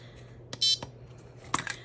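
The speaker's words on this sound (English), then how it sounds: "So I'm gonna go ahead and start my 45 minute timer" A 45-minute kitchen-style timer gives one short, bright electronic beep as it is started, surrounded by a few light clicks and taps from handling it on a desk.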